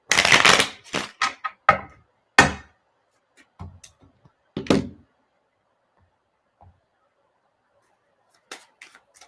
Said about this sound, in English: Let me shuffle them real good.